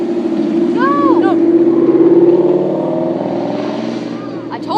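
A loud older Dodge Viper at a Cars and Coffee meet revs and accelerates nearby, its exhaust roaring steadily and then easing off, with people talking over it.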